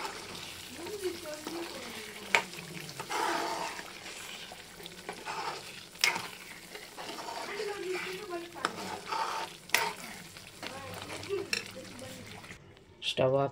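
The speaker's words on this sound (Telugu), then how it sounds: "తగ్గించుకున్న తర్వాత ఈ రొయ్యలు అనేవి పోసేసుకుందాం. రొయ్యలు పోసేసుకొని మంచిగా కలిపుకుందాం." Prawns fry in a pan while being stirred, a continuous sizzle with scraping stir strokes and occasional knocks, while someone talks over it.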